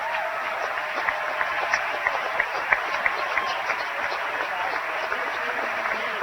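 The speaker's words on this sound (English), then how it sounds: "And he gets a standing ovation once again." Standing ovation at a college men's basketball game, a gym crowd clapping steadily and densely for a retiring broadcaster, with a few sharper claps popping out of the even wash of applause.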